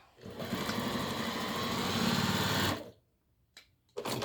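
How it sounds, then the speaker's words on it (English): A sewing machine stitches an apron strap in a fast, close whirring run of nearly three seconds, then stops, and a couple of short bursts of stitching follow. "we're going to fold it over and we're going to sew it again closer to the selvage edge"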